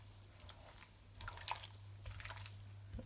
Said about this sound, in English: So now my soup is bubbling and boiling